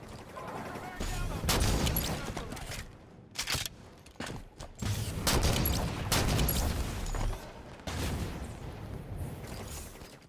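Rapid bursts of loud gunfire from the Nornfang weapon in Halo 5, heavy shots in quick succession broken by brief pauses, with chaotic battle noise and possible voices underneath.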